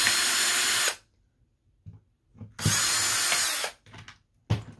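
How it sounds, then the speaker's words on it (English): A power drill whirs loudly in two bursts of about a second each, separated by quiet pauses with light handling knocks. "so I can drill that hole"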